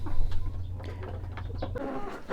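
Minorca and Bielefelder chickens in an enclosure, with soft scattered clucks and short calls over a low steady hum, fairly quiet and close.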